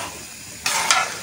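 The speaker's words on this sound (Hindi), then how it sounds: "पालक और दाल को अच्छी तरह मिक्स कर लें" Spinach and lentils get stirred together in a pot. A quiet hiss is followed by a sudden burst of wet sizzling and scraping as the spoon moves through, close by with no voices.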